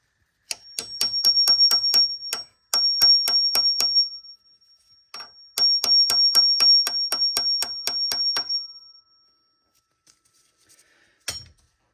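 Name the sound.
tapping a Duralast 11/16 bolt extractor onto a stuck cam phaser bolt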